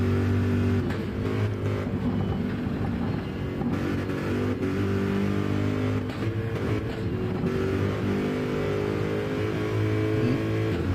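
A Corvette race car's engine roars on an onboard lap of Le Mans in a GT endurance racing video game, a loud, steady drone with strong low harmonics, held continuously with brief gear-change dips and no talk.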